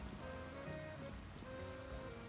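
In the video game Pokemon Legends Z-A, rain falls steadily and softly, a faint, even patter under low ambient game music, with no speech.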